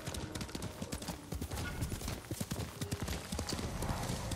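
Horse hooves clip-clopping in the samurai video game Ghost of Tsushima, a brisk steady trot of close, loud hoofbeats continuing throughout with some background game ambience.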